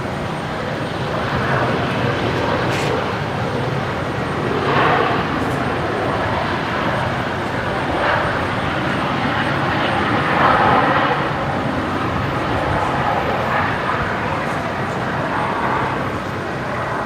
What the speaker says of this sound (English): Another Qantas Link EJet there.